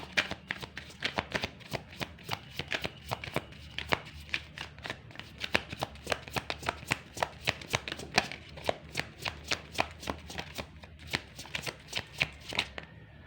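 Tarot cards are shuffled near and alone, a rapid, steady run of crisp flicking riffles over several seconds, with no voices.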